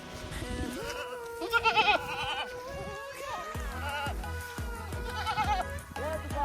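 Goats for sale at a livestock market in Chaibasa, Singhbhum, bleat repeatedly in wavering calls close by, over busy market chatter and background voices.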